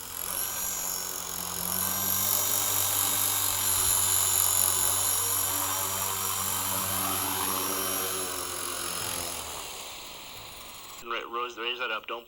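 Radio-controlled helicopter at full throttle: a steady, loud, high-pitched rotor and motor whine holds for about eleven seconds, then cuts off abruptly as a voice speaks briefly.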